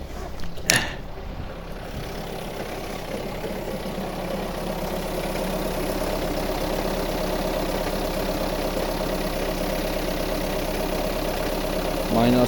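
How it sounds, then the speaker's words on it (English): A Mahindra ROXOR engine idles steadily just after an extreme cold start at minus 16, a continuous rumbling drone heard close by, with a brief sharp knock near the start. "So let it idle here for a little bit."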